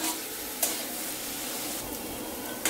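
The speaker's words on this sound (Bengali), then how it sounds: "সামান্য করে লবণ। ভালো করে নেড়ে চেড়ে নিচ্ছি।" Bitter gourd (karela) with a little salt is stirred in a frying pan, giving a soft continuous sizzle with a few faint scrapes of the spoon, quiet and close.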